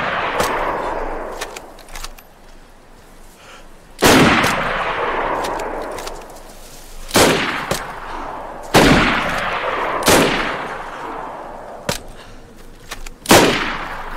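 Gunfire in the survival game DayZ: loud, sharp single shots spaced a second or more apart, each ringing out into a long echoing tail, with a few quicker cracks between them and no talk over them.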